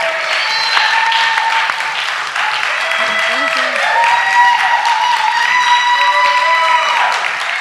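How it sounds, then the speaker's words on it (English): Audience applause at a recovery-themed show, steady and full for the whole stretch, with voices and sustained tones running through the clapping. "Give Julia a nice round of applause"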